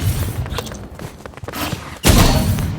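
An RPG fires in the Roblox shooting game Rivals: scattered thuds and shots give way to a sudden loud blast that rumbles on as a dense explosion, with no speech.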